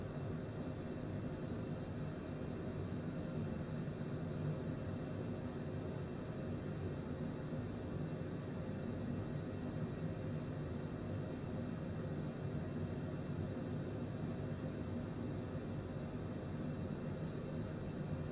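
A Cessna Citation private jet cruises in flight in Microsoft Flight Simulator 2020, a steady, faint, even engine and air hum with no change in pitch throughout.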